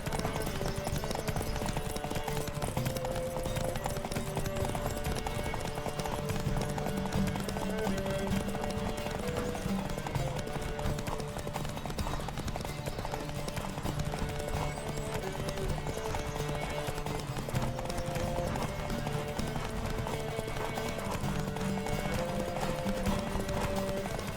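Horses galloping in a race in the video game The Witcher 3, steady rapid hoofbeats continuing throughout at moderate volume alongside game ambience, with a few faint voices.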